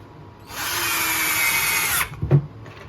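A Hyper Tough 12 volt cordless drill drives a screw in one steady high whine of about a second and a half, close and loud, followed by a couple of soft clunks as it stops.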